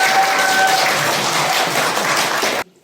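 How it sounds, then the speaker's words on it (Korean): Loud, dense applause from a crowd, steady for nearly three seconds, then it stops abruptly. "큰 박수로 환영해 주시기 바랍니다."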